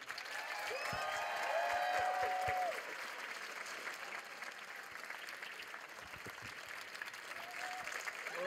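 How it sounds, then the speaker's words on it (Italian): A live audience applauds to welcome a guest, steady clapping from a room with a few sharper close claps, while a voice speaks over it early on. "Signore e signori, per favore un applauso per Alessandro Masala."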